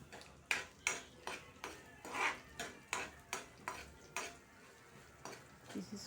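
Rasam spices are stirred in a pan over low flame, with a regular rhythm of about a dozen metallic scrapes and taps over a faint, quiet sizzle.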